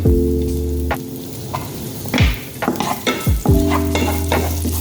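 Garlic dropped into hot oil in a pan, crackling and sizzling up close while a utensil stirs with scraping strokes, a steady frying hiss throughout, no speech.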